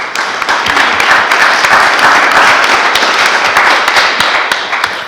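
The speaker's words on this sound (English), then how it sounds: "Let's give him a round of applause" An audience at a Center for Cal Studies university event applauds steadily and densely for about five seconds, a close, continuous wash of clapping with a few sharper claps standing out and no voices.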